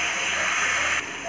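Loud, close sizzling and hissing from curry being sautéed in oil in a pan, a continuous bright fry that eases off slightly near the end.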